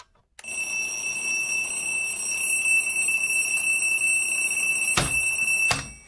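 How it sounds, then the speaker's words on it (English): An alarm clock ringing, a loud, shrill, continuous electronic tone starting abruptly after brief silence, steady for several seconds, then broken by two sharp clicks or knocks near the end. "because once that alarm goes off"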